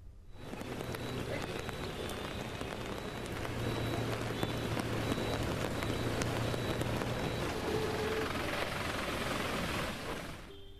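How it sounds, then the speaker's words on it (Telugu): Heavy rain pours without a break at dawn in the Gudur area of Tirupati district, a dense, steady hiss of drops on surfaces that swells slightly midway and stays constant until it cuts off abruptly, with no talking. "తెల్లవారుజాము నుంచే ఎడతెరిపి లేకుండా వర్షం కురుస్తుంది."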